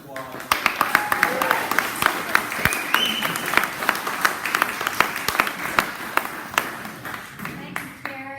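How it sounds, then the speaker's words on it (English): An audience at a talk on the history of the Culver fire department claps for the firefighters present, a round of scattered applause under intermittent speech and room noise. "so just a round of applause."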